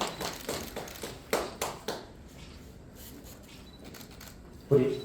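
Several sharp claps in a short burst from a small audience at a Korean literary award ceremony during a flower presentation, then a quieter stretch and one more loud clap near the end.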